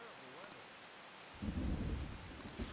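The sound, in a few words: rain and thunder in video game Persona 5 Royal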